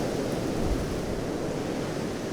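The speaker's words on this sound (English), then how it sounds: "Still quite windy here." Strong gusting wind the morning after storm Éowyn in rural Ireland, a steady broadband roar buffeting the microphone throughout with no voices.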